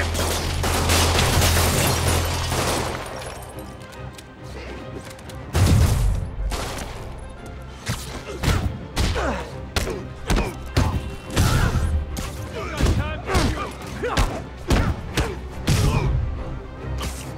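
Gunfire in the Marvel's Spider-Man PS4 game: bursts of shots and heavy thumps come in loud, irregular clusters while combat sounds and brief shouted voices play through the fight.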